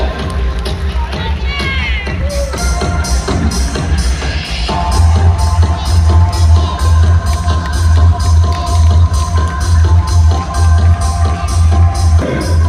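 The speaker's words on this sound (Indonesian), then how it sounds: "kita beri tepuk tangan yang meriah" Crowd applause at an Islamic tabligh akbar and building inauguration in Malang, loud and sustained throughout, with steady rhythmic clapping that swells midway alongside crowd noise and a low musical hum.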